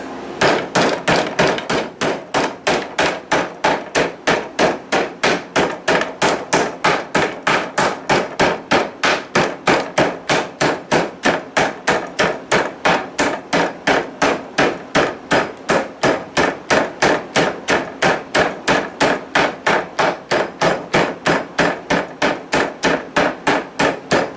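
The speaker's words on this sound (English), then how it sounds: "Meat hammer." Rapid, steady pounding of a meat mallet on chicken breast, dozens of evenly spaced sharp thuds continuing without pause, close and loud.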